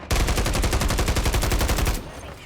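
Rapid automatic gunfire in the shooter Modern Warfare 3, a steady stream of about twenty fast, loud shots for two seconds, then abruptly stopping into quieter game background.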